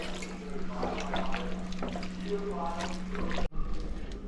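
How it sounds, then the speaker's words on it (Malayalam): Boiled water poured into a pot of chicken in a home kitchen, a steady splashing pour lasting a few seconds over a faint background hum, ending with a brief bump. "ഇതിലേക്ക് നമുക്ക് വേകാനുള്ള വെള്ളം ഒഴിച്ചു കൊടുക്കാം"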